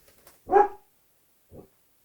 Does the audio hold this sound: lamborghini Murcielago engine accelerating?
no